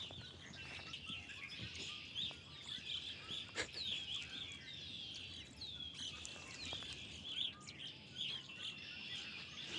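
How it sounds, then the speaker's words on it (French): Outdoor bird calls in Ontario with a red-winged blackbird and a mourning dove, clear repeated chirps and trills, fairly close and steady, over quiet background with no talking. "je peux te dire au son, il y a le carouge à épaulettes. Il y a une tourterelle qui vient d'arriver."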